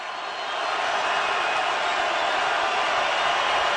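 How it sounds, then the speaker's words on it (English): Steady roar of a stadium crowd at a Seattle Seahawks versus Dallas Cowboys football game, a loud, continuous wash of massed voices that swells slightly after the start and holds evenly throughout. "Crowd into it again"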